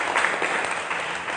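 A church congregation applauds during a Sunday sermon, a steady wash of clapping hands held at an even level for the whole short stretch, with no voices standing out above it.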